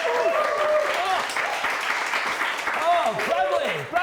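A studio audience cheers and applauds as Taekwondo master Bradly Sinden joins as a guest. Sustained clapping and crowd noise run throughout, with a host talking excitedly over it.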